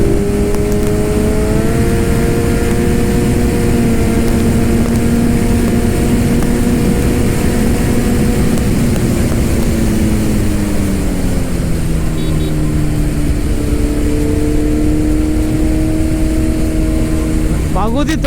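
A Kawasaki Z900 motorcycle held at half throttle on a road ride gives a loud, unbroken engine drone whose pitch sags lower midway, then climbs again.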